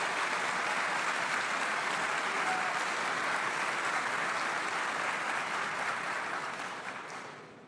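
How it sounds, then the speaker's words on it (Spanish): Dense, sustained applause from a large audience during a political speech by Javier Milei, steady and loud before tapering off at the end, with no talking heard over it. "Por si no se escuchó por los aplausos"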